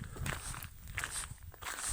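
Footsteps crunch along a gravel trail at Sheriffmuir in an even walking rhythm, close and moderately loud, with no voices.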